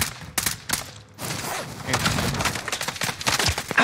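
Gunfire during a Call of Duty Warzone match, a dense burst of close shots with thumping impacts that keeps up under game noise.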